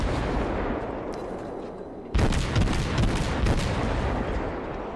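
Mahan tier 7 American destroyer guns firing in World of Warships, a loud burst of rapid booming shots packed together after a quieter stretch of rumbling battle noise, with no voices.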